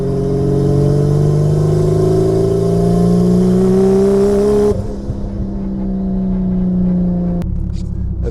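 A BMW E36 fitted with a 1JZ engine pulls hard on a test drive, its rising engine note climbing steadily, easing briefly at a gear change, then resuming loud and close.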